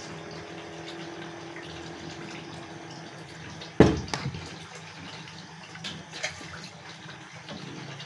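A brief splash of water being poured into a cooking pot, starting abruptly and trailing off into a few smaller drips against a quiet background hum.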